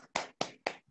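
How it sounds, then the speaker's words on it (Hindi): Applause at an awards event: three sharp, evenly spaced hand claps, close and fairly faint, with no voices. "मैम के लिए एक जोरदार ताली होनी चाहिए"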